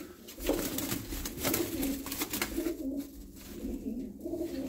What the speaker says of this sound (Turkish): Gözümüz gibi baktığımız kuşlardan.